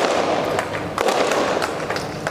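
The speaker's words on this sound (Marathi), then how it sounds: "जे फटाके वाजतात ते अजून बंद झाले नाही" Firecrackers bursting at a civic welcome celebration in Sangola, loud rapid crackling pops and sharp bangs in irregular clusters, close by and continuous.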